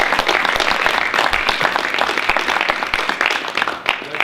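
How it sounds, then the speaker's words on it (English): Steady applause from a crowd at a Board of Education meeting, dense and continuous clapping throughout, fairly loud, tapering slightly near the end. "I think that deserves a round of applause."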